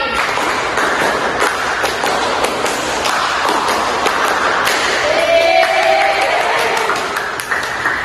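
Students in a Grade 4 classroom clap in rhythm, a steady run of sharp, close hand claps lasting several seconds with children's voices chiming in at points.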